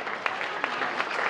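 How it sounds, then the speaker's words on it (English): A crowd claps at an evening VIP fundraiser, a short burst of scattered hand claps at moderate distance, steady and lively throughout. "maybe a round of applause for the flan lady"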